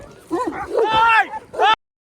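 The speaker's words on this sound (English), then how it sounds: "the closest I've ever been to getting mauled by a pack of dogs" A pack of dogs in the Georgian mountains barks and yelps sharply at a hiker on foot. The barks come close and loud in a rapid, overlapping burst, then cut off abruptly.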